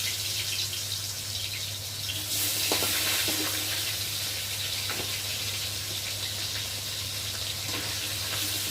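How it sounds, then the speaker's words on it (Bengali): Tengra fish fry in hot oil in a wok, giving a steady, dense sizzle with occasional sharper crackles and light clinks, no talking. "এখন আমি একে একে মাছগুলোকে ভেজে নেব"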